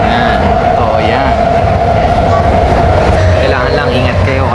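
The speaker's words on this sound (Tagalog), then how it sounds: "Ibig sabihin ng BART ay Bay Area Rapid Transit." BART Bay Area Rapid Transit train running with a steady loud rumble and drone, a persistent tonal hum throughout, heard from close by as if riding aboard, with some voices mixed in.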